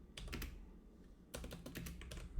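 Keys clatter on a computer keyboard in two quick bursts of close typing, separated by a short pause, fairly quiet overall.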